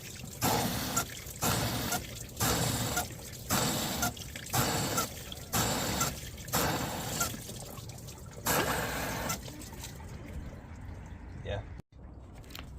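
Water flushing through the heater matrix of a 1998 Toyota Celica GT ST202, a broad rushing flow surging in regular pulses for about nine seconds, then easing to a quieter trickle before a brief stop near the end.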